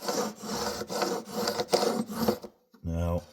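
A file rasps across the high frets of a vintage guitar during fret leveling, making about half a dozen close, rhythmic scraping strokes before a short burst of voice at the end.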